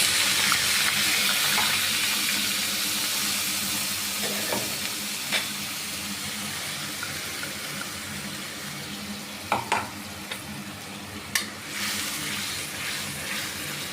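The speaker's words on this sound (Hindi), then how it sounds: "इधर तेल डाल दिया है कढ़ाई में" Cumin and onions fry in hot oil in a kadhai, giving a steady close hiss with occasional sharp clinks from stirring.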